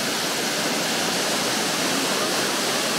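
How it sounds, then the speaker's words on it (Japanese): Maegoro Falls in the Norikura Highlands pours steadily as a dense, loud, unbroken roar of falling water heard up close, with no other sounds. "松本市特別名勝前五郎の滝"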